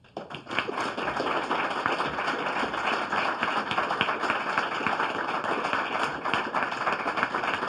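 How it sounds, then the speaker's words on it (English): Sustained applause from a ceremony audience, dense and even clapping that swells in quickly and holds steady throughout. "we have applause"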